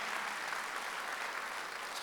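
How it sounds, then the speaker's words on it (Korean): A church congregation applauds during a Sunday worship service, a steady, even wash of many hands clapping, fairly quiet and distant, with no voices standing out. "박수를 하세요."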